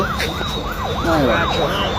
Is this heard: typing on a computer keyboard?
no